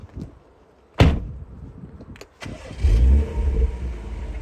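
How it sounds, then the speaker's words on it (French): A warm BMW M135i xDrive in comfort mode cranks after a door-like thump and fires into a loud, close flare of revs that settles into a steady low idle. "On va la démarrer en mode confort."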